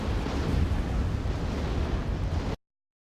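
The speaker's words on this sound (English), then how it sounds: "The Exo soldiers just destroying their refineries." Refineries being destroyed in the strategy game Act of Aggression, heard as a dense, continuous rumbling roar of explosions that holds at a constant level and then cuts off abruptly.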